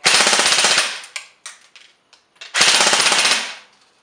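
A JG Mag K airsoft gun on a lipo battery fires full auto at a fast rate, two loud sustained bursts about a second long separated by a few short single shots, close and clear with no talk.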